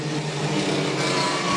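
Wingless sprint cars at a Collie speedway circle under yellow lights before a restart, making a steady, fairly distant engine drone with no sharp revs.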